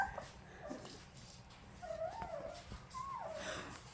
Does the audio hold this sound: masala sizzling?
no